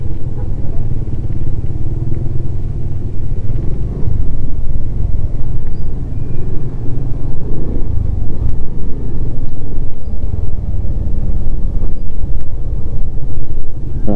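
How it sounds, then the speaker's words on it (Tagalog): Road traffic from a moving motorbike in the Philippines: a steady, loud engine rumble with constant wind roar on the mic and passing vehicles blended into the drone throughout. "Traffic."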